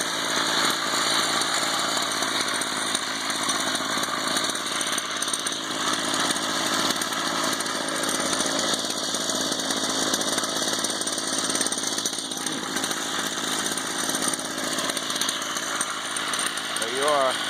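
A BladeZ Moby XS 33cc gas scooter engine runs steadily for the whole stretch, a loud, close, buzzing two-stroke drone at constant pitch with no pauses.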